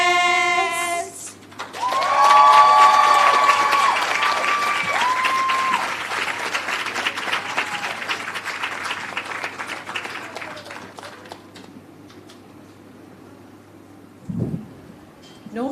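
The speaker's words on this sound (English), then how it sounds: "give them another round of applause" Audience at a 2024 heritage competition awards ceremony breaks into loud, sustained applause that swells, then slowly fades over about ten seconds, with a tonal vocal or musical line riding over the clapping at the start.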